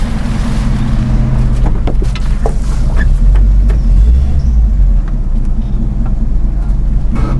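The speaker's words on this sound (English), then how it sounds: "New bunch of cars going on." Steady low rumble of car engines and vehicles rolling aboard a ferry on loading, a dense continuous drone with scattered clanks and knocks over it.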